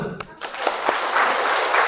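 A small group breaks into applause indoors, starting with a few scattered claps and building into steady, moderately loud clapping that lasts for nearly two seconds.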